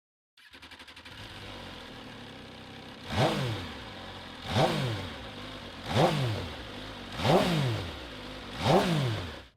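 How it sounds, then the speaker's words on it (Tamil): An MV Agusta Superveloce S motorcycle idles with a steady low exhaust burble, then gives five evenly spaced, loud revs that climb and fall back, each a sharp rising roar, with no voices. "இதோட எக்ஸாஸ்ட் சவுண்ட் வந்து நான் வெப்சைட்ல இருந்து எடுத்திருக்கேன்"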